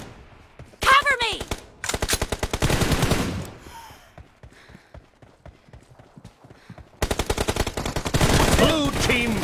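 Bursts of rapid automatic gunfire in the PUBG Mobile battle royale shooter during a competitive scrim, loud and close, with rattling volleys separated by quieter gaps and faint background game sounds.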